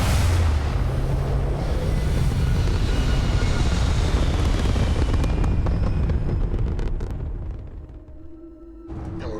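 A spaceship lifts off in the video game Starfield with a heavy, roaring engine rumble and deep booming bass. The roar holds loud for several seconds, then thins and fades before a low hum returns at the end.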